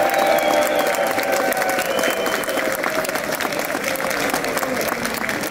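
Sustained crowd applause at a German event, a dense continuous wash of many hands clapping with some cheering underneath, steady and fairly loud throughout, with no talk over it.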